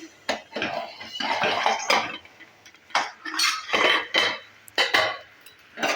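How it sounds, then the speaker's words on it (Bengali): A pot lid lifted from a pan while making carrot mini snacks, with a series of sharp metallic clanks and clinks close by, separated by short quiet gaps. "এবার এটা ঢাকনাটাকে আবারও তুলে দিচ্ছি।"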